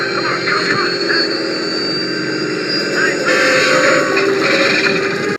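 A propeller airplane engine from the 1981 film Raiders of the Lost Ark drones loudly and continuously at close range, a steady roaring hum throughout.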